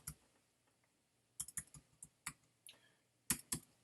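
Computer keyboard typing in scattered bursts of crisp key clicks, several quick taps clustered together with short pauses, close and fairly quiet with no talking.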